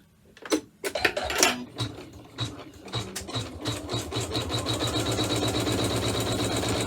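An embroidery machine stitching a pouch design starts with a few irregular knocks and clicks, then settles into a fast, steady mechanical needle rhythm, close and continuous.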